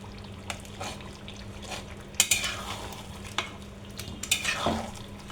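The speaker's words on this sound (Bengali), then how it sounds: "টমেটোটা খুন্তি দিয়ে লেড়েও এরকম করে দিতে পারেন" Tomatoes stirred with a spatula in a frying pan alongside chicken, a soft sizzle broken by scraping strokes of the spatula against the pan, close and quiet with no talk.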